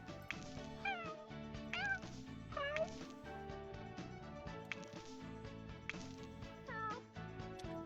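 A cat in The Sims 4 gives several short meows, some rising and falling in pitch, spaced over a busy background of game music.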